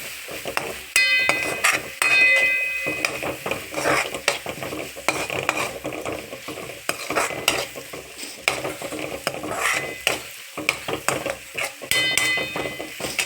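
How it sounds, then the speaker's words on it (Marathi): Garam masala being stirred into frying rajma curry in a pan, with repeated close scraping strokes and clinks of a spoon over a continuous sizzle. "गरम मसाला, अशा प्रकारे ते मिक्स करून घ्यायचं।"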